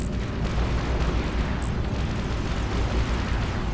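Capital ship weapons fire in the space combat game Fractured Space, a dense sustained barrage of booming blasts and rumbling explosions that stays loud throughout, with no voices.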